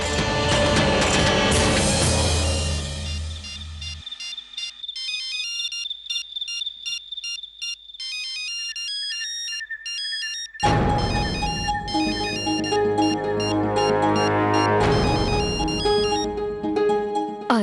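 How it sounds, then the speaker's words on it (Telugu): A mobile phone ringtone plays a bright electronic melody at night, looping in repeated musical phrases with a short quieter stretch before the tune returns loud and close, no talk over it. "కాస్త చూడండి, మీ ఫోన్ మోగుతుంది."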